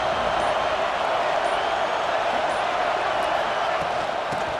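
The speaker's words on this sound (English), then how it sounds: "Listen to the crowd energy here in the early going." A dense, roaring stadium crowd fills the air at an LSU home football game against USC, a constant loud wash of noise with faint sharp sounds here and there, with talk over it.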